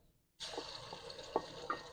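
Chopped onion drops into hot ghee in a kadai, with a steady sizzle starting abruptly and holding, broken by a few soft clinks and stirring scrapes.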